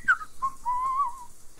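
A person whistles a short, wavering tune in a few separate notes, the longest held near the end, close and clear against a quiet background.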